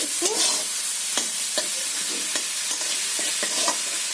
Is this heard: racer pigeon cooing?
no